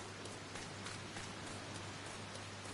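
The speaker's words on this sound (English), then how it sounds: "Like, sounds like real rain," Rain falling as a weather effect in the video game Final Fantasy XIV on PS5: a faint, steady, even hiss of rainfall with no pauses and no voices.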